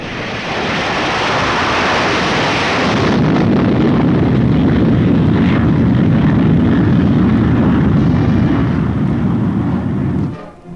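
Loud roaring rush of a B-47 Stratojet jet bomber passing, a dense sustained jet-engine blast that shifts in tone partway through and cuts off abruptly near the end, with no voices.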